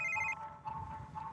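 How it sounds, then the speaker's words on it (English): A phone rings indoors with a short electronic ringtone, two or three quiet repeating tonal bursts heard alone. "My phone's ringing."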